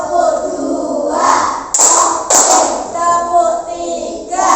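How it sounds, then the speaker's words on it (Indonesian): Children standing in an Indonesian classroom doing a counted clapping exercise, sharp hand claps landing in short bursts amid a voice and group chatter, fairly close and loud. "Ayo berdiri, melakukan tepuk 1."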